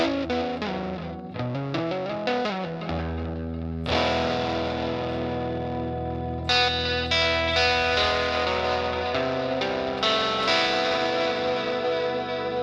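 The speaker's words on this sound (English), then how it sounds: "This plugin, this digital delay matched with a guitar," Electric guitar run through a Universal Audio Woodrow 55 digital delay plugin, sustained distorted chords and notes with repeating echoes and a slight wobbling modulation, continuous and loud throughout.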